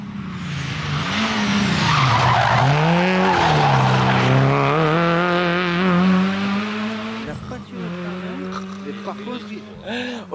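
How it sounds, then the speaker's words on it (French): A rally car's tires squeal loudly in a long, wavering skid at the Rallye de Haute Provence 2023, the whine rising and falling for about seven seconds before cutting off, followed by rougher engine and road noise. "Oh, il a fait crisser des pneus, mon bot."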